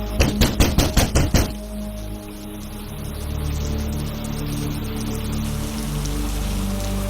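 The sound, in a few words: rain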